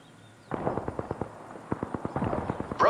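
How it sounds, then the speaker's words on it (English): Gunfire in a battle royale video game match, a fast burst of sharp cracking shots, about a dozen in quick succession with a short gap, close and fairly loud over quiet background. "enemies are shooting at me"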